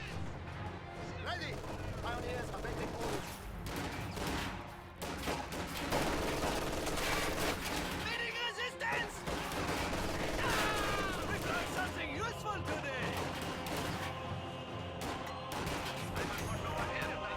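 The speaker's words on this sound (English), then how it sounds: "The machine gun chipping away at them from a distance might help a little bit though." Machine-gun and rifle fire crackle throughout a strategy video game battle, dense bursts of sharp rattling shots at a distance while a commentator talks over them.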